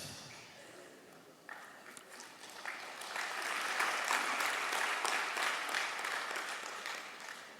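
An audience starts clapping after a few quiet moments, swelling into full, sustained applause that holds steady to the end.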